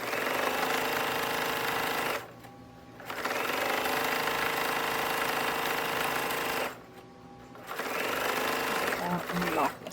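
A sewing machine edge-stitches a denim apron, running in long, steady rattling bursts separated by two short pauses, close up, with no voices.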